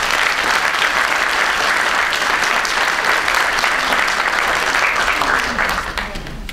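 Sustained applause from an audience at a university graduation ceremony at Danubius University, dense steady clapping that fills the room and fades slightly toward the end.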